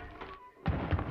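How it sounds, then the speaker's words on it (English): A dull, wet thud from a scene in the TV series Interview with the Vampire, season 2, comes as a heavy low impact after a quieter stretch, followed by a faint rumble. "That wet thud?"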